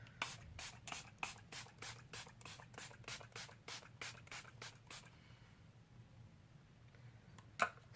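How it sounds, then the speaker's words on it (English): A can of face spray rattles in quick rhythmic shakes for about five seconds. After a quiet pause, one short sharp hiss of spray follows, all faint and close. "I have to shake this and spray my face."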